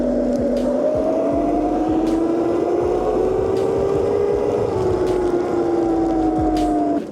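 Electric snow bike built from a 72V Razor SX500 plowing through snow, a loud, steady motor whine that shifts slightly in pitch over a rough, constant churning rumble, close and uninterrupted.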